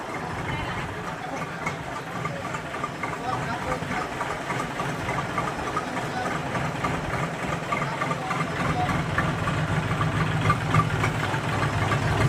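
A second-hand tractor engine idles in a steady, loud, rumbling drone with a knocking vibration, running continuously for the whole stretch without pause.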